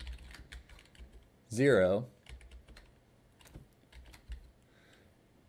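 Computer keyboard typing as code is entered in Unity, with bursts of close, crisp key clicks in irregular runs while someone speaks briefly.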